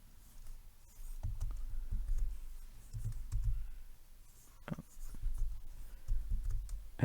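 Bursts of quick, light keystrokes clatter on a computer keyboard as git commands are typed, close and soft, with brief pauses between groups of clicks and no talking.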